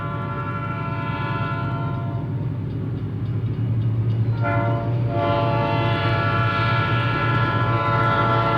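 A Southern Pacific freight train rumbles past loudly with a low, heavy roar while its multi-tone horn sounds in long blasts over the rolling noise.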